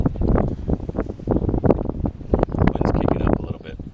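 Gusty breeze buffeting the microphone outdoors during a DIY spark plug change, a loud, continuous rumbling wind noise with rustling swells throughout.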